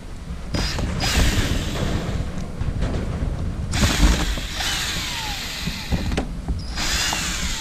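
A power screwdriver whirs in short bursts as small screws come out of a Mustang convertible top, with ratcheting creaks and pauses between screws, close and fairly loud.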